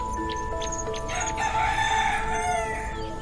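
A rooster crows in a cartoon story about a magical hen, with a few short clucks first, then a long drawn-out crow that stands out clearly over a soft background.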